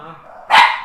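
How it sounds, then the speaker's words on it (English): One loud, sharp bark bursts out close by from excited dogs, a short, abrupt yelp that quickly fades. "My dogs are going crazy."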